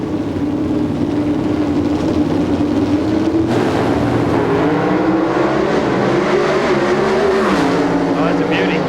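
Dodge drag race cars at a 1994 NHRA national event in Memphis roar off the line side by side, a loud, sustained engine blare that builds and shifts mid-run, with a commentator talking over it.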